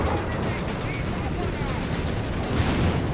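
Battle sounds from the Company of Heroes 3 strategy game, with constant machine-gun bursts and artillery fire making a dense, rattling wall of combat noise while a commentator talks over it.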